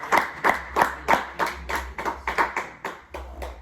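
A church congregation claps in worship, giving about a dozen close, regular, rhythmic claps in steady time, with no talking.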